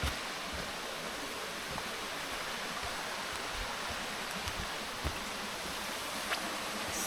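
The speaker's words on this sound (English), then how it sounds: "Look at the creek!" A rainforest creek in New South Wales flows with a constant, even rushing wash, a few faint splashes and clicks on top, and no voices.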